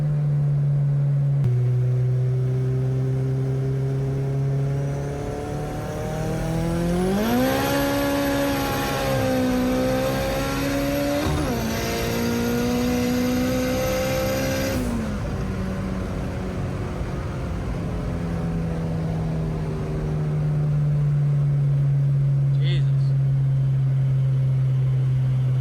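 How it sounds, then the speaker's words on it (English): Turbocharged Honda Integra with no windshield accelerating hard, the engine note climbing steadily through a gear and then easing off, loud and close, with no talk over it. "the turbo hits hard"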